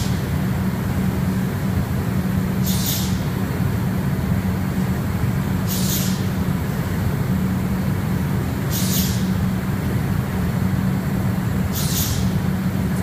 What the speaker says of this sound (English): You can hear the air solvent in the background